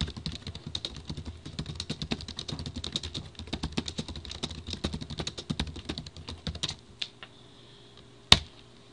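Rapid, uneven keystrokes on a computer keyboard clatter close by for about seven seconds, then give way to a few isolated taps and one sharp final key click.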